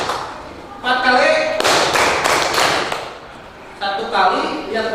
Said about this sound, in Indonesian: Semua apa? Tepuk satu kali.